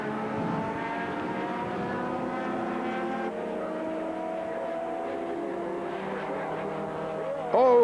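DTC touring race cars at Oschersleben in 2000, engines howling with steady harmonic whine through the clip, one car sliding off through gravel and grass, a louder engine note surging up at the end.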